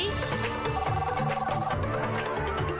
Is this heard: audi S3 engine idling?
no